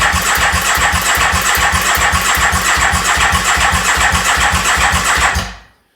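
EBR 1190 RS motorcycle engine cranked on its starter in a workshop, a rapid steady chugging pulse for about five seconds that cuts off abruptly, loud and close with no talk.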